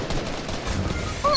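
Rapid gunfire from a Fortnite match, a loud sustained burst of shots filling the short moment, ending in a higher honking blip.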